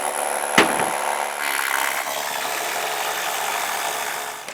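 A power drill bores into a concrete base rail for a garage and workshop build, a loud steady mechanical whine with a sharp knock near the start, running continuously until it cuts off at the end.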